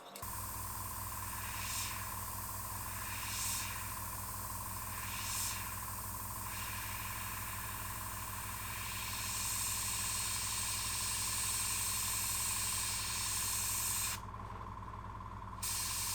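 A Gaahleri Seeker airbrush sprays heavily thinned paint at about a 90-10 thinner ratio, making a continuous close, airy hiss that holds steady for a long stretch and drops out briefly near the end.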